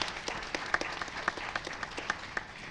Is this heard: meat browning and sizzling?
no